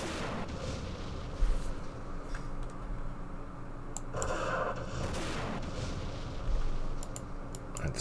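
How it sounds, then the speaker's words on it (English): Recoilless rifles fire in the Vietnam war game Campaign Series Vietnam, giving a few dull, distant booms that rise briefly over a steady rumbling battlefield background. "Utilize these recoilless rifles"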